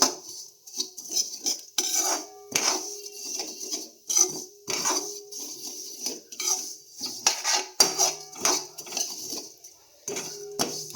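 Govindobhog rice flakes frying in ghee in a pan, stirred with a utensil that scrapes and clinks against the metal in a quick, uneven rhythm, close and fairly clear.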